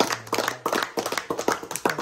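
Crowd applause after a day spent helping animals in Palizada and Santa Isabel, Mexico: a short burst of sharp, fairly close hand claps in uneven clusters, with no talking.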